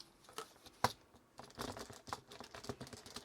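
Keys pressed on a freshly cleaned and reassembled Powerbook Duo 230 laptop keyboard, a quiet run of close plastic clicks with one sharper tap early on, then a quicker, uneven typing patter.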